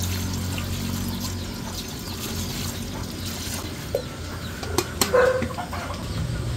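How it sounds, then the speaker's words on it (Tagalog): Water pours steadily into a pot of chicken feet being prepared for adobo, a continuous rushing trickle with a few sharp clinks and knocks near the end and no talking. "Atin po munang papalambutin itong paa ng manok. Yan, at lalagyan na po natin ng tubig."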